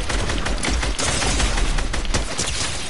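Rapid gunfire in a shooter video game, loud close bursts of shots fired in quick succession with a heavy low thump, nearly continuous over a few seconds.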